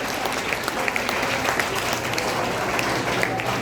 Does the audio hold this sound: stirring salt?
no